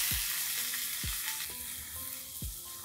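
Onions sizzle in oil left from searing meatballs in a frying pan, a loud, steady crackle broken by a few low scraping thumps as they are stirred.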